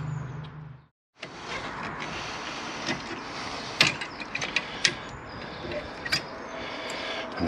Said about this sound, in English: just remove this spring clip off the front, and then hopefully she should slide off